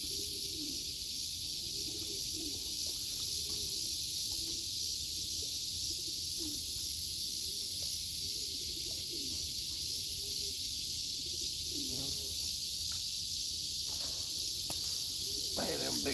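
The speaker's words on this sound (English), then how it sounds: "There's cicadas back here making noise." Cicadas buzzing behind a fishing spot with pigeons around, a constant high, dense drone running throughout, with bird cooing and a voice heard faintly underneath.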